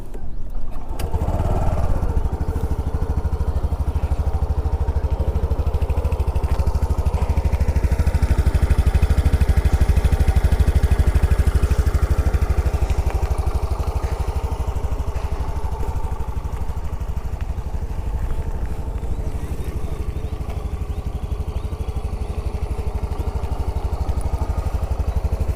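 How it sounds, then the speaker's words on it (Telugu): A TVS Jupiter 110cc scooter engine idles steadily close by, a low, even throbbing hum that holds throughout with a slight rise in the middle and no voices. "ఇప్పుడు నేను ఇంజన్ నాయిస్ అనేది ఒకసారి వినిపిస్తాను."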